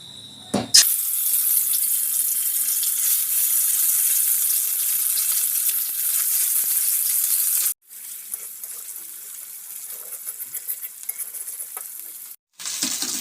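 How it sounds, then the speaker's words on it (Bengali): Chicken pieces frying in hot oil with a spoonful of ghee, a loud, continuous sizzle that drops out briefly twice, with occasional stirring clatter. "তেলটা গরম হয়ে গেছে, এবার আমি এর মধ্যে চিকেনগুলো ভেজে নেব।"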